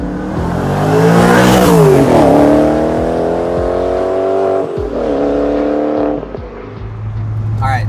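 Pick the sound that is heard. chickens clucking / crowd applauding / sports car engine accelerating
sports car engine accelerating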